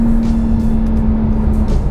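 A 2020 Porsche 911 Carrera S (992) with a 3-liter engine and manual gearbox, heard from inside as it drives, giving a steady loud engine drone with a sustained tone throughout and no talk.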